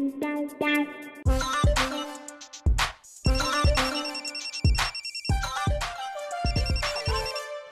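A phone ringtone plays a busy electronic melody of repeated tones and beats, loud and close, with no talking.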